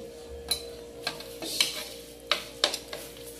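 Clams and papaya soup is ladled from a pot, giving a few sharp metallic clinks and scrapes of a ladle at irregular intervals over a faint background hum, close by and without speech.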